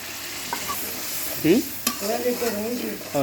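A frying spice mix of coriander, turmeric, chilli powder and ground cumin sizzles as hot water is added and stirred, with short scraping strokes and bursts of hiss over a steady background.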